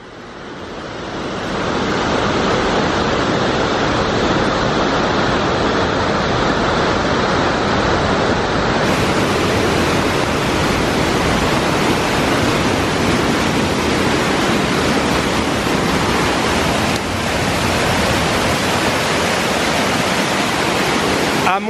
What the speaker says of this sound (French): on a une cascade un peu cachée comme ça